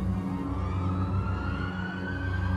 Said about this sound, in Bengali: হর্ন বাজিয়ে রেড ক্রসের 2টো অ্যাম্বুলেন্স এলো